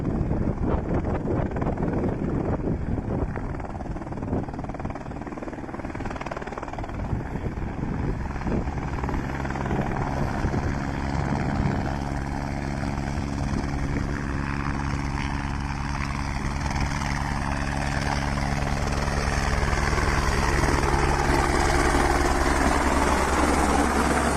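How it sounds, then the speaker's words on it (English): A helicopter hovers and flies during a water rescue, lifting people from the water, its loud, steady rotor and engine roar filling the whole stretch with wind buffeting the microphone. "we can see the helicopter picking the people from the water"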